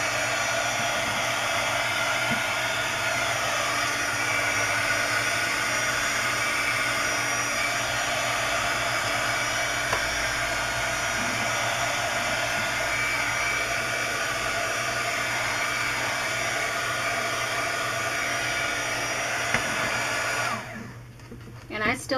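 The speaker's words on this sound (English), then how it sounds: "Now you can hit that with the heat tool to make sure everything is dry." Handheld heat tool blowing over an altered lantern scrapbook craft project to dry it, a steady loud whirring hum that runs nearly unbroken before cutting off near the end.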